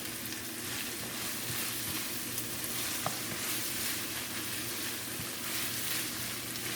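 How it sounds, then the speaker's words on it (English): Ackee and saltfish sautéing in a pan, a steady, soft sizzle and crackle of frying that carries throughout with faint stirring clicks and no talking. "I'm going to let this saute a little bit more, and then I'm going to add the peppers"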